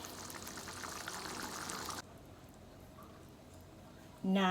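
Cooked spice paste pours into a pot of boiling beef broth for Coto Makassar, making a loud wet splashing that stops abruptly halfway, leaving a quieter bubbling simmer and then a sudden clatter.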